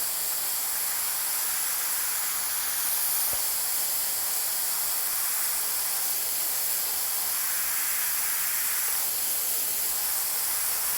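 Steady airbrush-style spray hiss as a coat of paint goes onto a racing driver's helmet, continuous and fairly loud with a faint tick near the start and no voices.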